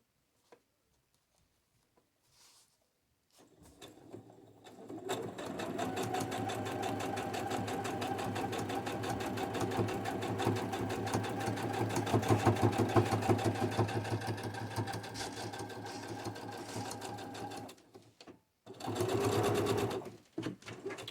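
A sewing machine stitches fabric pockets in one long, steady run that starts after a quiet lead-in, close and loud, with a short second burst near the end and no talking.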